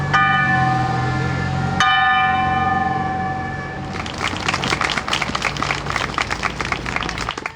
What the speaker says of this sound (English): As guns fired and trumpets played, the John Brown Bell was rung, making history in Marlborough.